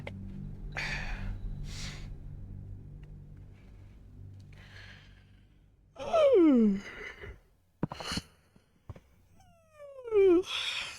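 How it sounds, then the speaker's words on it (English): A long drawn-out yawn, rising then falling in a moaning, sighing voice, with a second shorter yawn near the end, close and fairly loud against quiet background hum and breaths. "I'm yawning. Can't you hear me yawn?"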